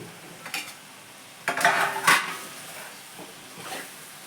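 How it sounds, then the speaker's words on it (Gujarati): Leftover bajra roti pieces tipped into a pan and stirred with a utensil, with scattered scrapes and clinks and a soft sizzle underneath, the loudest bursts coming in the middle. "હવે આપણે આ રોટલાના કટકા જે કર્યા હતા એ અંદર નાખી દઈએ"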